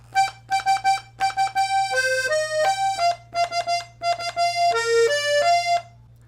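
A 32-bass accordion plays a bouncy pattern of bass notes and short chords in C Dorian, with distinct detached stabs followed by a held melodic phrase, close and clear.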